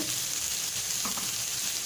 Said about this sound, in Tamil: பூண்டு பல்லையும் போட்டு கொஞ்சம் உப்பு போட்டுக்கலாம் வதக்கிறதுக்கு